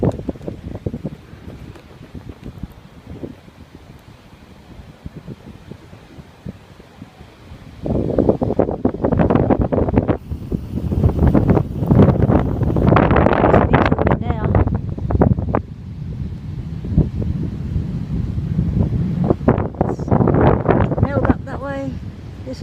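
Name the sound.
wind blowing under a jetty at the beach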